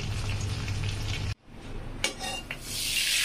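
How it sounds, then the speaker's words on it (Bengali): Cashews and raisins fried lightly in a couple of spoons of ghee. A close sizzle cuts out briefly, then returns with a few utensil clicks and rises into a brighter, hissing fry. "এরপর 2 চামচ ঘি নিয়ে কাজু কিশমিশ যেগুলো ভিজিয়ে রেখেছিলাম সেগুলো একটু হালকা করে ভেজে নেব।"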